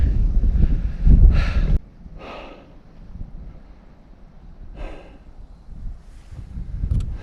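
Gusty wind rumbles against the microphone while bikepacking at Kinkuna, strongest at the start, then settles into softer buffeting with occasional whooshing gusts.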